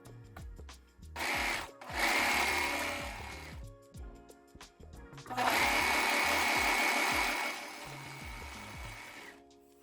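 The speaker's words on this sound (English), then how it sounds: "if you've got an overlocker, you can overlock the raw edge of the ribbon to the raw edge of the fabric" An overlocker stitching ribbon onto the raw edge of fabric for a horsehair hem, running in two long bursts of steady mechanical whirring with a brief start before them and pauses between.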